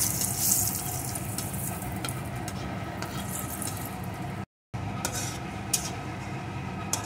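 Black cumin seeds and two dried red chillies fry in hot oil for a mustard pankal fish curry, giving a steady, soft sizzle with brief crackles that drops out for a moment and then resumes.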